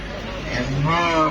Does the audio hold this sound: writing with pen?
no